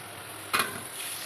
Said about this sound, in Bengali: এবার সমস্ত সবজিগুলোকে আমি একটু ডিপ ফ্রাই করে তুলে নেব